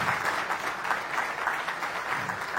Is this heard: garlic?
no